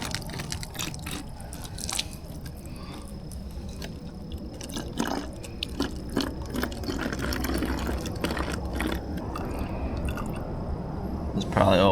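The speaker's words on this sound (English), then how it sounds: "I'm spilling half of my coffee." Coffee poured and partly spilled at a backcountry camp in Florida, liquid trickling and splashing in uneven bursts with handling clatter, moderately close, with some voice in the background.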